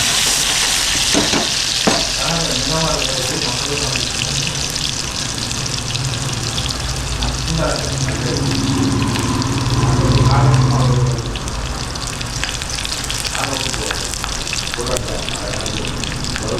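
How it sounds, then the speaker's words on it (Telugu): Onions fry in a hot pan in a mess kitchen cooking Ankapur country chicken curry, a loud, steady sizzle with stirring scrapes and a brief watery gush, with background voices and kitchen bustle throughout. "వేడి కాగానే ఉల్లిపాయ వేసుకోవాలి అయినంత ఉల్లిపాయలు వేస్తాం"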